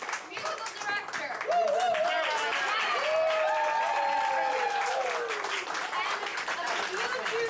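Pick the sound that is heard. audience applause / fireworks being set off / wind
audience applause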